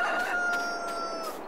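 A farm cockerel crows once, a loud drawn-out call close by that fills the whole short clip.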